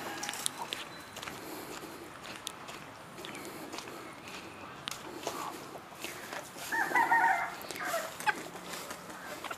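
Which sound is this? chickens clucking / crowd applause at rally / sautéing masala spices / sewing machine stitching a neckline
chickens clucking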